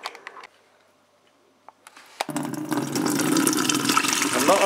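Water pours from the tap of a Burco boiler into a jug after a few light clicks and ticks, starting suddenly and building into a steady, close splashing rush.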